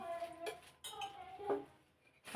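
A few light metallic clinks and knocks of a tea pot being handled, spaced apart, with quiet talking around them.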